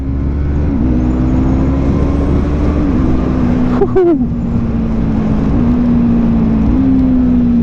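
A 2017 Yamaha MT-03 motorcycle is ridden near redline, its engine holding a loud, high-pitched drone with a brief drop and recovery at a gear change midway, under wind rush.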